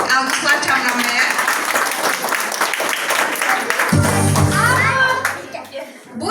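Audience applause at a charity event held in a children's home, a dense burst of clapping with children's voices mixed in, easing off toward the end.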